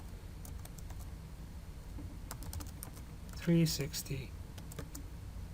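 Quick clicking keystrokes on a computer keyboard while a command is entered, light and close, with someone speaking briefly over the typing midway.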